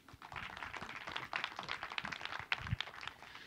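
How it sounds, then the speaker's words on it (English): Scattered clapping from a conference audience at a professional round table, moderately distant and fairly soft, a steady patter of hands lasting a few seconds without talk. "You can applaud one more time."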